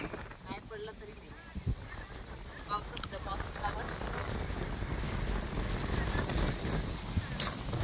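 Monsoon wind blows and buffets the microphone in a steady, rising rush during rice transplanting season, with people talking faintly beneath it.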